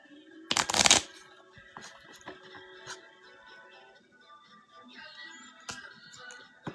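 Trading cards being shuffled before a card break, a quick loud riffle near the start followed by softer scattered clicks and rustles of handling.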